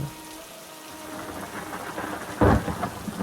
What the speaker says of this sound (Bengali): এমন সময় জোরে ঝড় বৃষ্টি শুরু হয় ঘন ঘন বাজও পড়তে থাকে